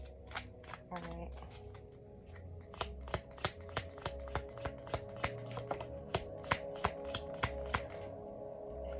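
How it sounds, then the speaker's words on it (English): A tarot card deck is shuffled and tapped close up, a steady run of crisp rhythmic clicks and soft thuds that repeat about twice a second, with low background sound beneath. "I had shuffled the tarot deck"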